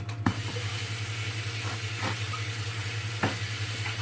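Mini batbouts, small puffing flatbreads, cook in a pan with a steady, soft sizzling hiss over a low hum, broken by a few brief knocks or taps; no one speaks.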